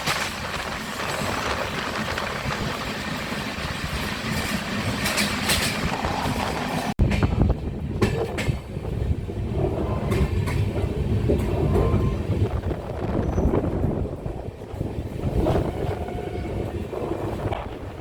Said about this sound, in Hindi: जहाँ हमारी ट्रेन चल रही है वहाँ पे हल्की हल्की बारिश हो रही है